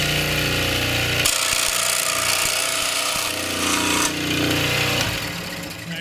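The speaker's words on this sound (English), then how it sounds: "I'm going to go ahead and cut that off right there on my scroll saw." A scroll saw cuts through a foam wing template, giving a loud, steady buzzing and rasping that runs without a break for about six seconds with no talking.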